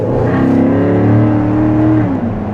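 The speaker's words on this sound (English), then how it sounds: "I do want to show you a little bit of the acceleration if you just floor it one time really quick" A 2014 Chevrolet Corvette Stingray engine revs hard and climbs in pitch under full-throttle acceleration in tour mode, loud and close, with a deep exhaust drone.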